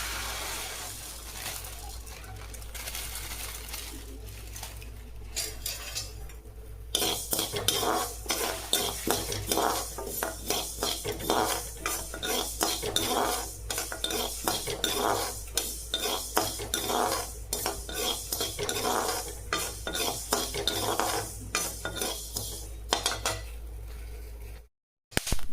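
Mustard seeds and black pepper dry-roasting in a pan for a Tamil kuzhambu masala powder, with busy crackling, scraping and stirring from a spoon against the pan after a quieter start, continuing steadily and close.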